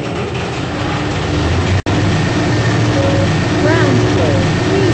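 Lift car travelling downward in a lift system with British synthesized announcements, a steady loud mechanical rumble and hum broken by one brief dropout, with faint chirping tones toward the end.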